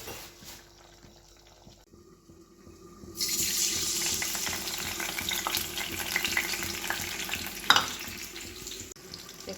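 Kachori filling frying in a pan bursts into a loud sizzle a few seconds in after a quieter start, then crackles steadily with a sharp pop near the end, close and with no talking.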